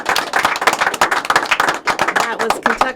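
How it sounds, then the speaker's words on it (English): Close, lively clapping from a small audience after a live music performance in a Kentucky studio, with quick uneven hand claps and a few voices calling out near the end. "we've never had this much applause in this room"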